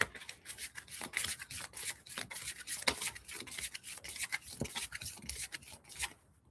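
Tarot cards being shuffled by hand in repeated quick riffles and slides, producing dry papery rubbing and soft snaps in an uneven rhythm, close and moderately quiet, with no talking.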